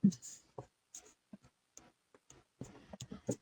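A paper envelope is folded and creased, giving a close run of soft crinkles, taps and brief scraping rustles with short pauses between them.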